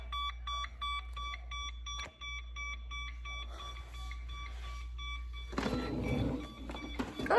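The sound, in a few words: device beeping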